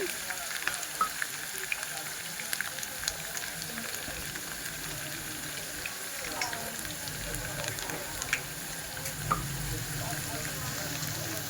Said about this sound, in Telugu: మధ్య మధ్యలో కలుపుతూ ఉండాలి మాడనివ్వకుండా కొంచెం మీడియం ఫ్లేమ్లో పెట్టేసుకొని వేయించేసుకున్నాం మనం